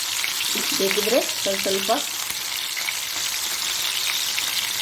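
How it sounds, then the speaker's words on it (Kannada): Masala-marinated mackerel sizzles steadily in a pan, a continuous crackling hiss with a short stretch of speech over it early on. "ತುರಿದು ಹೀಗೆ ಮೀನು ಫ್ರೈ ಆಗಲಿ"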